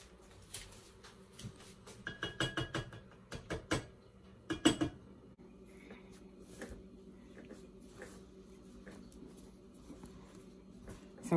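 Butter being worked into German pretzel dough in a bowl: irregular clinks and scrapes of a utensil against the bowl, clustered in quick bursts early on and then thinning to softer, sporadic taps.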